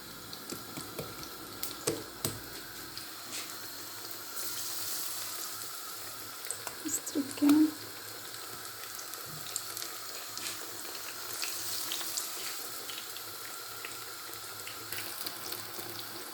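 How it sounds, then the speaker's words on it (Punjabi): Eggplant pakoras coated in thick gram flour batter frying in hot oil, a soft continuous sizzle and bubbling with a few light clinks from utensils, close and moderately quiet. "ਹੁਣ ਸਾਡੇ ਬੈਂਗਣ ਦੇ ਪਕੌੜੇ ਫਰਾਈ ਹੁੰਦੇ ਨੇ"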